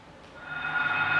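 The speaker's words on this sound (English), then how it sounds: "the sounds the radio makes when a monster is close by in Silent Hill" Radio static from the Silent Hill video game, warning of a nearby monster: a hissing, crackling noise that swells steadily louder over a second, with a faint tonal whine running through it.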